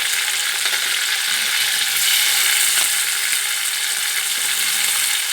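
Chopped tomatoes fry in a hot pan with a loud, continuous hissing sizzle and occasional stirring scrapes, close and steady throughout.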